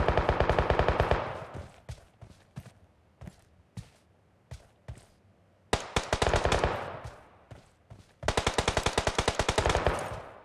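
Battlegrounds Mobile India gunfire: rapid automatic bursts alternating with spaced single shots, loud and close, ending in a long sustained volley.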